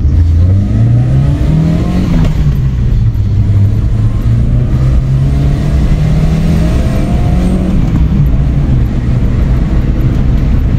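A Hyundai Santro Xing with an Epsilon-series engine pulls steadily while driving, its loud, continuous engine drone rising and falling in pitch with the throttle, close and alone for the whole stretch.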